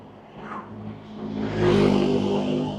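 A car engine revs up and accelerates nearby, the roar swelling over a couple of seconds amid wind rumble.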